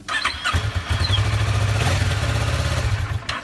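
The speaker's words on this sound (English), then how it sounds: "We're going to turn on the motorcycle." A motorcycle engine cranks and catches after about half a second, then settles into a loud, close, steady idle rumble that continues to the end.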